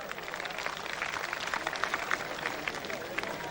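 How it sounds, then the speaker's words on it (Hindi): Crowd applause at a ring passing tent-pegging tournament, a dense, steady patter of clapping from many spectators outdoors, with a voice talking over it. "एक दफा समाना की हौसला अफजाई वास्ते तालियां बजाओ यार"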